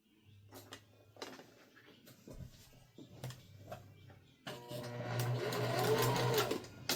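A domestic sewing machine stitches a seam on a backpack-style bag, running in short bursts at first, then settling into a louder, steady whirring stretch near the end, close and without talk.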